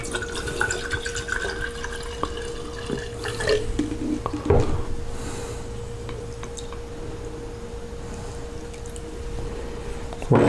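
A cup of vinegar is poured for cleaning copper, giving a thin steady trickle of liquid with a few clinks and a splash, close by and moderately quiet.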